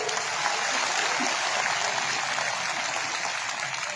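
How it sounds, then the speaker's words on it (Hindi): A crowd claps steadily and densely for several seconds, sustained applause with no pauses. "इसलिए जोर से ताली बजा के"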